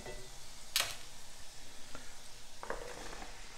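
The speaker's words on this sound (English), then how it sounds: "let's throw in the onion and peppers" Onion and peppers sizzle quietly in olive oil in a pan, a soft steady frying hiss with a few sharp clicks and scrapes of stirring.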